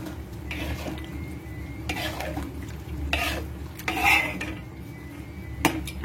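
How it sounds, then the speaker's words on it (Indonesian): Noodle seasoning with sesame oil is stirred in a pot or pan, giving close clinking and scraping strokes of a utensil against metal in uneven bursts over a low steady background hum, with no voices. "Terakhir kita tambahkan sesame oilnya ya. Setelah itu kita aduk rata ya."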